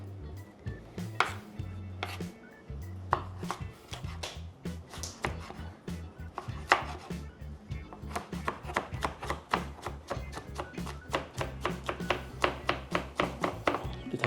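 Vegetables for a potato and bean salad are chopped on a board with a knife, starting in scattered cuts and turning into a quick, even run of close, crisp knocks.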